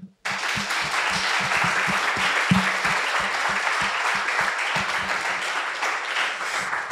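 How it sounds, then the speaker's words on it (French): An audience at a coding bootcamp presentation in Bordeaux applauds its graduating students, dense sustained clapping starting abruptly and holding steady, with some distinct close claps punctuating the roar. "je pense qu'on peut les applaudir"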